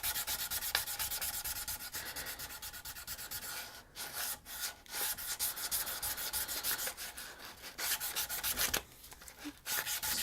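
Sandpaper rubs over a wooden handle in a continuous, close, raspy scrub with brief pauses between strokes and no talk.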